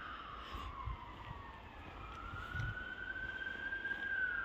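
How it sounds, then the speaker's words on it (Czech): An ambulance siren wails somewhere distant across a cold winter town in Havířov, its faint rising and falling tone drifting steadily over low outdoor rumble with no talking. "A zrovna tam jede někde sanitka."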